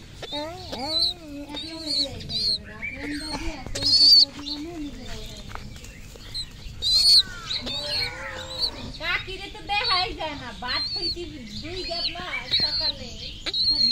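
Young pigeons in a loft give soft, repeated chirps and squeaks, close and busy, while people talk nearby throughout.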